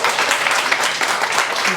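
An audience applauds at the inauguration of a bridge at Saint-Romain, producing dense, steady clapping that holds at an even level for the whole stretch with no pauses.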